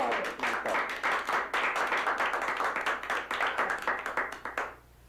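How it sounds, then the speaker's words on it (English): Audience applauding at a card-in-wallet magic routine, a close, lively burst of sharp handclaps with distinct individual claps that carries steadily before dying away abruptly at the end. "Gee, I don't know if you guys should applaud at that part."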